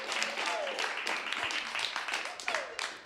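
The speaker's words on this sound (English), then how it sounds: "Let's give him a big warm welcome and applause." Audience applause for a featured artist at an evening spoken-word cafe show, a steady dense wash of clapping with some voices mixed in throughout.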